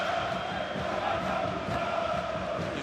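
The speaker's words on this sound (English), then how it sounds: "His crowd is relentless." Basketball arena crowd cheering at an AEK versus UCAM Murcia Champions League semi-final: a steady, dense roar of fans from behind the basket, moderately loud and continuous throughout.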